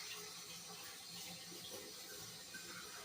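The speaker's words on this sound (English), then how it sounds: "I'm just gonna wash my hands again." Tap water runs steadily while hands are washed in a kitchen sink, a faint, continuous splashing hiss with no talking.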